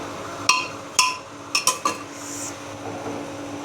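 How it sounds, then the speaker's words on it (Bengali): A metal spoon stirring mutton in a pressure cooker, five or six sharp clinks against the pot in an uneven rhythm, close and clear over a quiet kitchen background. "এখন আমি মাংসটা প্রেসার কুকারে দিয়ে একটু নাড়াচাড়া করবো।"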